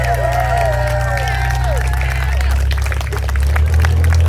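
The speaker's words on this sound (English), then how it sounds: "can we give Hannah a huge round of applause for organizing this?" Crowd clapping and cheering at an outdoor March For Our Lives rally, the applause mixed with crowd noise and babble over a constant low rumble, loud and sustained throughout.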